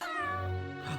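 A cartoon cat in an anime episode gives a clear, drawn-out meow lasting about a second, loud and close with no talking over it.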